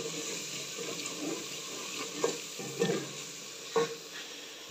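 Spice masala with turmeric and chili being stirred as it fries in a pan, a soft continuous sizzle broken by a few louder scraping strokes, close and without speech.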